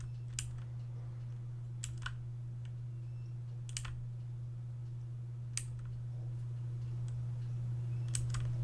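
Typewriter-style dialogue text ticks from a 2D dating sim video game: sparse, light clicks scattered at irregular intervals over a steady low drone.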